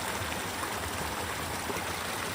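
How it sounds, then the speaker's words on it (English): Water pours steadily out of a channel, a continuous rushing, gurgling flow heard close and fairly loud with no voices over it. "There's plenty of water flowing out of that one, isn't there?"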